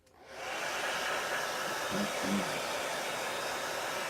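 A hair dryer switches on and blows steadily at close range over a chalk transfer craft, a constant airy roar that ramps up in the first half second and holds throughout.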